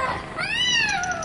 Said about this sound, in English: Look out for the cat!